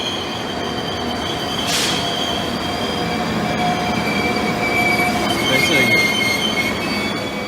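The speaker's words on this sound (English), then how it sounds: "The 11:56 Northern Train service from Nottingham to Leeds." A Northern passenger train from Nottingham to Leeds rumbles steadily past at close range, with high metallic wheel squeal rising over the continuous roar.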